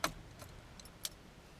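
Car keys in the ignition of a Vauxhall Astra J give a sharp jangle at the start, then a couple of faint metallic clicks as the key is turned, close and quiet.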